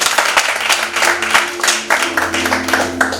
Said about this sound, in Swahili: Jamani makofi hayatoshi.